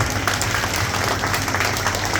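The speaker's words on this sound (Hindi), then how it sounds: "इनके लिए मैं जोरदार ताली बजाओ भाई" An audience claps loudly and continuously as a crowd cheers someone at a religious gathering with a shared meal, the applause dense and sustained throughout.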